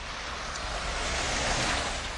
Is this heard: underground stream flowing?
yes